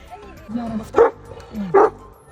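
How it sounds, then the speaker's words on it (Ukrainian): A working guard dog gives two short barks about a second apart, close and moderately loud, with faint whining between them. "Робоча сторожова собака."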